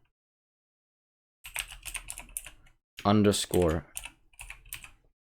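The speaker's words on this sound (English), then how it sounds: "Open up the console again, and type in screenshot" Quick clattering keystrokes on a computer keyboard as a console command is typed, close and crisp in short bursts, with a person speaking briefly in the middle.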